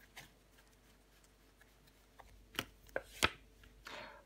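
A tarot card is laid over another card on a tabletop, giving a few soft, faint taps and brushes close by, with no voices.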